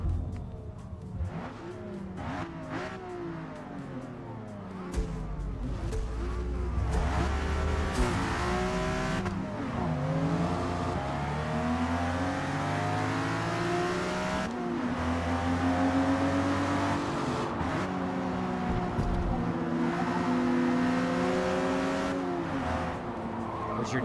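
A Nissan 350Z Nismo engine revs repeatedly in rising and falling pulls, loud and fairly close, with a steady heavy drone and occasional tire squeal.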